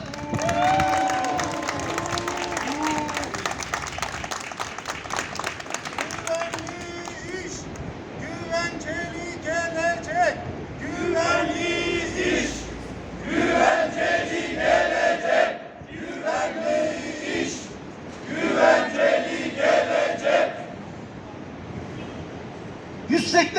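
Protesters outside the PTT General Directorate clap and whistle in rhythmic bursts to condemn the AKP government, with loud waves of applause and shrill whistles separated by short lulls.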